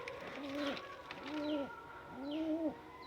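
Pigeons in a loft give three soft, rolling coos in a regular rhythm, close by and fairly quiet, against faint background noise.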